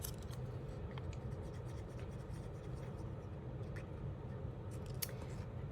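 Small scissors snip repeatedly while cutting tiny paper shapes for a layered craft project, with quick, light, uneven snips over a steady low background hum.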